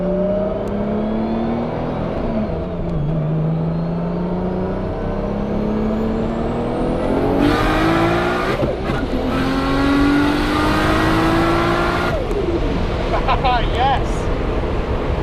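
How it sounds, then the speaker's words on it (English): A Nissan GT-R accelerates up close, its engine note climbing steadily in pitch with a fluttering turbo sound as the throttle lifts. Talk runs over the engine throughout. "I love that turbo flutter."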